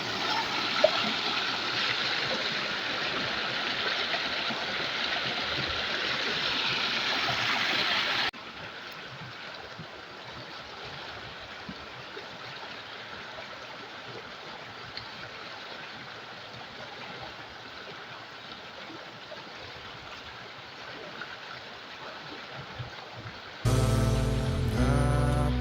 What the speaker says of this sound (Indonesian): sangat nyaman walaupun kita di tengah sungai.